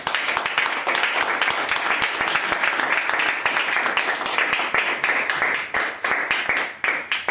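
A church congregation claps during a service with dense, steady rhythmic applause that stays loud and continuous for several seconds, with voices faintly mixed in.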